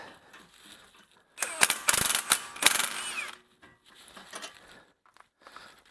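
A ratchet wrench with a 24 mm socket loosening a transmission bolt on a Toyota Camry/Avalon V6, giving a close burst of rapid metallic clicking that stops, then a few fainter ratcheting strokes.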